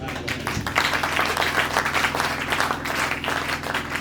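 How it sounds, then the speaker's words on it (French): A church congregation at a Pentecost service applauds loudly, with dense, sustained clapping from many hands throughout. "Acclamez d'abord très fort."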